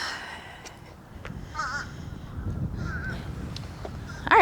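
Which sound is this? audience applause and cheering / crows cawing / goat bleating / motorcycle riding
crows cawing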